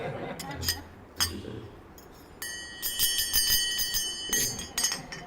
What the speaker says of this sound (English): Menaka comes down and rings her ankle bells